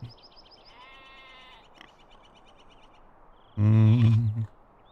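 A milk cow in the Lord of the Rings Online game gives one loud, drawn-out lowing call near the end, with quiet game ambience and faint tonal cues before it.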